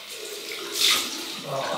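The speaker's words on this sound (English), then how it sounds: "Right, cool water now." A bathroom tap runs cool water during a wet shave with a Schick double-edge razor and Palmolive shaving cream, a steady splashing rush that swells briefly in the middle with no talking.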